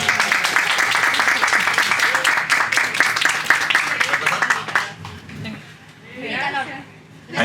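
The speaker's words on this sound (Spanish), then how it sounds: "Un aplauso, por favor." Audience at a children's festival event applauds and claps for a girl who won a book prize, a dense sustained patter of clapping that thins out, with a host's voice coming in near the end.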